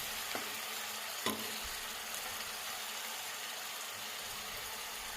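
Pan frying for a fish curry, a steady close sizzle with a couple of faint taps, no voices.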